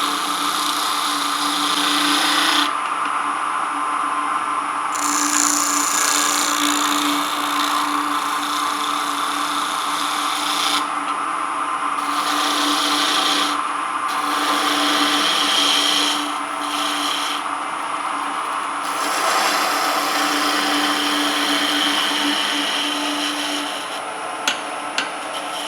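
Plywood bell being turned on a wood lathe, with a steady continuous scraping and rubbing of the tool against the spinning workpiece that runs loud and close throughout, shifting slightly in texture as the cut changes.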